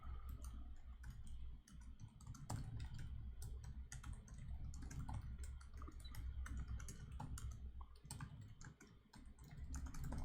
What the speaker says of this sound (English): Okay, so I typed a lot